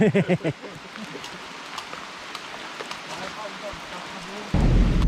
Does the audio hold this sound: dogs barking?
no